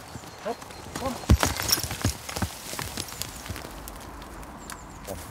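Hooves clip-clopping at a walking pace on a hard surface, irregular steps fairly close, with some quiet background noise.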